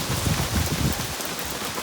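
Steady rain and gusting wind roar together in a dense, continuous wash of noise, close and fairly loud, with no voices.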